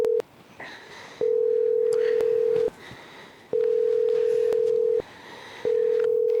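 A phone call rings out over speakerphone as a repeating electronic ringback tone, four long steady beeps separated by short pauses, clear and fairly loud.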